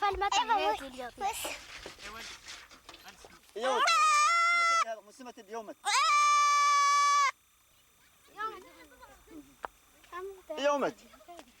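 A goat bleating in the Sahara among Tuareg nomads, with several long, loud wavering bleats between stretches of people talking nearby.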